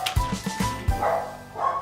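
A dog barks in a few sharp, close bursts early on, then a short yip follows, loud and alone with no talk over it.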